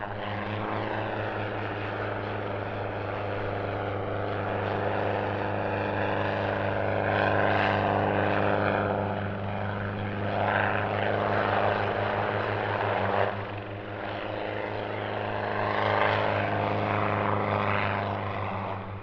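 A helicopter flying an aerobatic display at an air festival drones steadily with a low rotor hum and engine whine, swelling and easing as it maneuvers at moderate distance, with no voices.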